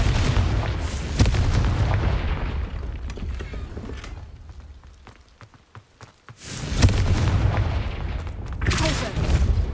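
Confringo blasting spells going off in Hogwarts Legacy: loud booming bursts, a first cluster, a quieter dip with sharp pops, then another heavy rumbling volley near the end.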